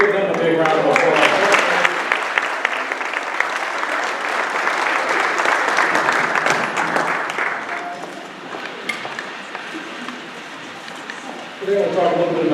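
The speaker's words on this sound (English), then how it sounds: "Let's give them a big round of applause." Audience applauding at an in-home graduation ceremony, a dense, sustained clapping that swells, gradually thins, then picks up again loudly near the end.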